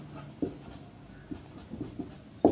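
A pen or marker scratches across a board in a quiet room, with soft, irregular strokes and a few louder taps as letters are formed and no one speaking.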